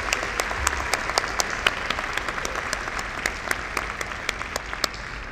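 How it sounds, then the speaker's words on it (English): Graduate school commencement crowd applauding at a fall ceremony: a broad wash of clapping with sharp individual claps popping out at a fairly regular pace, continuous and fairly loud throughout. "I would like for us to recognize them with a round of applause."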